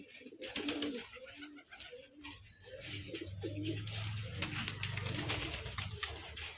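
Young Rajshahi Giribaz pigeons cooing in soft, repeated low coos over a steady outdoor background hiss, with no one speaking.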